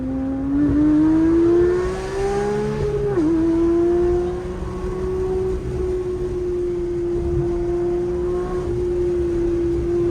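A manual Porsche 992 GT3 engine holds a steady high-pitched wail, climbing, dipping with a gear change around mid-run, then sustaining again at speed on a winding mountain road in the Smokies, loud and close with no talk.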